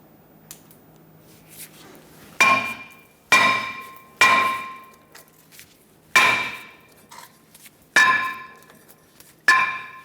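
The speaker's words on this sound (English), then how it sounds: "twist the rotor as you hammer" Six heavy metallic hammer blows on a stuck front brake rotor of a 2000-2005 Ford Excursion ring out at irregular intervals, each clang sharp and resonant, decaying slowly in an otherwise quiet space.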